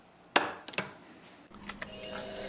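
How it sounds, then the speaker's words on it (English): A metal punch strikes a lower block to mark bolt centers, two or three sharp, close metallic taps with short ringing decay over a steady workshop hum, followed by fainter clicks. "Now I'm punching the centers for the two 256 bolts that will secure the microswitch to the lower block."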